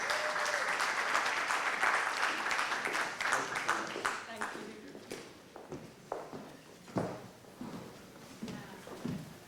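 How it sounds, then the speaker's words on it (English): An audience applauds to welcome a speaker at a conference on international environmental crime, the clapping dense at first and then thinning into scattered claps and footsteps, with some voices underneath. "Round of applause."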